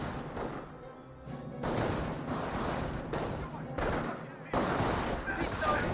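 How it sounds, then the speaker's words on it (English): Small arms fire in Company of Heroes, a real-time strategy battle, comes as continuous overlapping rifle and machine-gun bursts that swell and cut off in several waves, loud throughout. "Taking small arms fire!"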